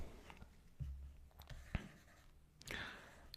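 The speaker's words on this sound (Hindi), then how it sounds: "तब तक मैं लिखता हूँ।" A teacher writes on a classroom board during a history lecture, with a few faint scratches and taps spread over the clip and one sharper tap partway through. No one speaks.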